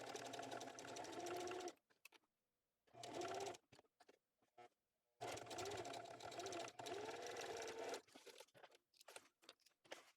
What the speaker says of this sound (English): So now I want to sew across this seam using a 1/8 inch seam allowance.